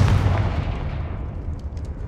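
A Confringo fire spell explodes in Hogwarts Legacy inside a dungeon, a single loud, close booming blast that rolls off and fades into a low rumble over two seconds.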